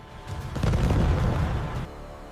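Muffled booms and rumbling blasts roll in the background over Baghdad, a dense low thud of distant explosions and gunfire heard over an A-10 Warthog radio transmission, lasting a couple of seconds before fading.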